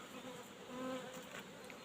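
Honey bees buzzing around a hive, a soft close hum with a brief louder drone passing near, faint and alone without voices.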